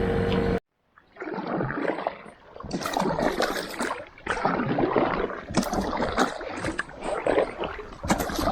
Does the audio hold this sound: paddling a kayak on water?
yes